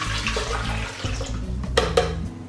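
Two cups of water are poured into a blender for a vegan turkey recipe, a close, continuous splashing pour lasting a couple of seconds with a few small knocks.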